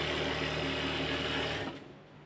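An electric sewing machine stitching a fabric stool cover runs with a steady, fast whirring rattle up close, then stops abruptly near the end.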